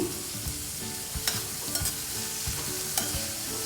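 Ingredients for a beans gravy curry cook in a pan with a constant sizzle, while a spoon stirs and scrapes in repeated strokes with occasional sharp clacks against the pan, close and with no talking.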